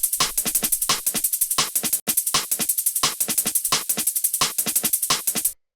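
A liquid drum and bass percussion loop of fast, crisp hits and shaker-like ticks in a busy repeating pattern with a brief gap near the two-second mark, bright and close, stopping cleanly at the end.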